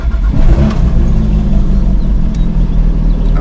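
A Porsche 991.1 GT3 flat-six engine starts and revs loudly up close, a sharp catch settling into a dense, steady, rumbling roar that continues without speech.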